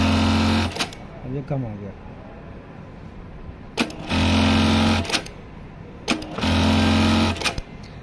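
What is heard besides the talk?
BARTECH sewing machine running a stitch pattern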